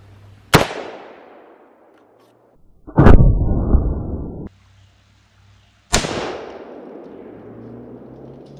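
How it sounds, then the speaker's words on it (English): Three sharp, loud rifle reports, 300 Blackout rounds striking a level 4 ceramic armor plate, each followed by a decaying ring, with a separate harsh burst of impact noise between the first two and no talking. "this is the 300 blackout versus level 4 ceramic plate"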